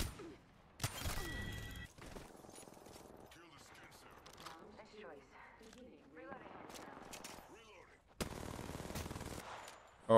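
Video game gunfire comes in several bursts of rapid shots and clicks, fairly faint, under a player's talk and game noise.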